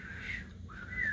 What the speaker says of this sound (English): Can any of you do a really good whistle?